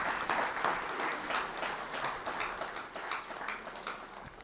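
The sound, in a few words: audience clapping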